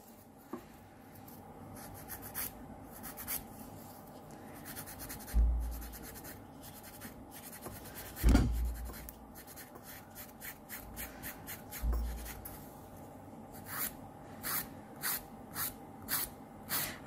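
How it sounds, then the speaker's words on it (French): A nail file rasping across semi-permanent nail polish, close and quiet, in short scratchy strokes that turn into a quick regular rhythm toward the end, with a few soft bumps between. "faites bien attention de ne pas limer l'ongle naturel"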